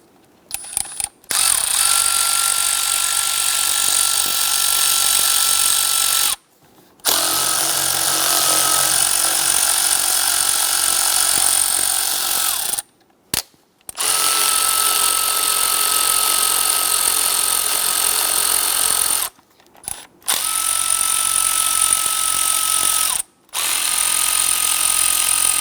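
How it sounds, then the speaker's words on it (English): A power tool fitted with a Torx T25 bit loosens and removes screws near the camshaft position sensor of a 2011-2021 Jeep Grand Cherokee 3.6L V6, whirring loudly in about five long runs split by short pauses. "Loosen and remove these screws"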